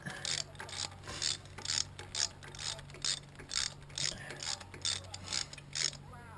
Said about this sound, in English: I don't look up torque values for spark plugs. I just get them tight.